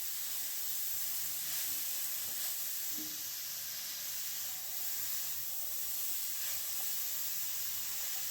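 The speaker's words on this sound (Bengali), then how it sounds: "মিডিয়াম ফ্লেমে এটাকে নেড়ে যেতে হবে কন্টিনিউয়াস।" Carrot halwa being stirred continuously in a pan over a medium gas flame, a steady soft sizzle and hiss with faint scraping, even and unbroken throughout.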